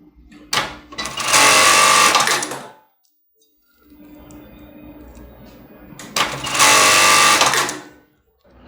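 A sewing machine stitches a black-and-white padded bra with foam cups, two loud close bursts of rapid mechanical stitching a few seconds apart, with quieter handling noise between them.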